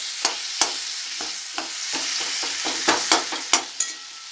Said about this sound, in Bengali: এটা আমি ভালো করে গলিয়ে দেবো টমেটোটাকে